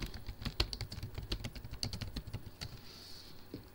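Quick, light keystrokes on a computer keyboard as an apt-get install command is typed, a steady run of close clicks that slows near the end, quiet and with no voice.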